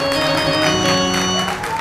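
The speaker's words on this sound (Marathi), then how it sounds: "तुम्ही टाळ्या तर वाजवा" A large audience at a public Marathi talk applauds in a dense, steady wash of clapping that holds for the whole short stretch. Sustained background tones run beneath the clapping.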